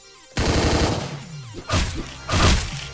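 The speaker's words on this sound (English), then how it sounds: "Machine guns." Machine gun bursts rip loudly in the top-down shooter Hotline Miami 2, three heavy rattling volleys close together with short gaps between them, each starting abruptly and ringing out briefly.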